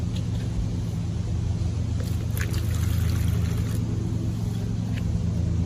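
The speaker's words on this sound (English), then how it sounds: "So we're going to put here a little water." Water poured into a mixing jar, a brief soft trickle rising over a steady low background hum near the middle of the stretch.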